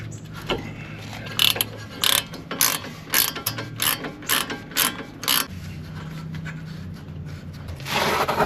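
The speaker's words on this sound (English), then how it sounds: "15mm socket. I'm going to take off these bolts here." Ratchet wrench with a 15mm socket loosening brake bolts on a 2013 Ford Fiesta, giving about ten sharp, evenly spaced ratcheting bursts close by, with a longer rasp near the end.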